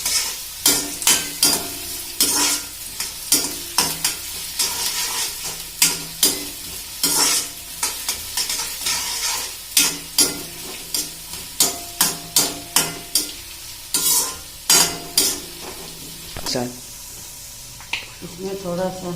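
Finely chopped onions stir-fried in a pan for poha, with steady sizzling and repeated rhythmic scrapes and taps of a spoon against the pan, close and fairly loud.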